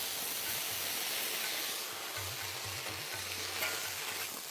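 Bol renversé sizzling and steaming in a pan after water is sprinkled over it, a steady close frying hiss with low bubbling throughout and no one talking.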